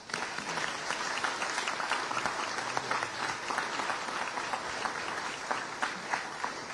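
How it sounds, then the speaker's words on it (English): Audience applause at a travel plaza ribbon-cutting ceremony, a steady wash of many hands clapping, heard from some distance and fairly soft, sustained throughout. "Please give them all a big round of applause"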